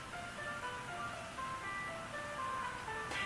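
Looping melodic background music from the Jelly Splash mobile puzzle game, a steady run of bright electronic tones and chimes at moderate level with no talking.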